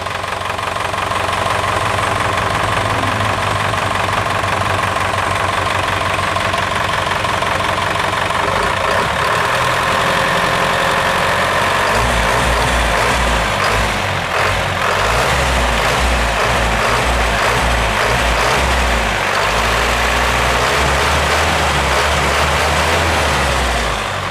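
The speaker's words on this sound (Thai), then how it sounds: "เดี๋ยวเราจะ สตาร์ทเครื่องยนต์ให้ดูกันนะครับ" An Isuzu NQR150 diesel truck engine idles loudly and continuously with a rough, knocking rumble that deepens and grows heavier about halfway through, with no talking.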